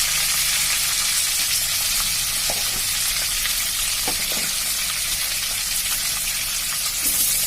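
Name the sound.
panch phoron and bay leaf sizzling in hot oil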